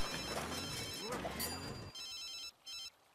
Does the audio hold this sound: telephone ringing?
yes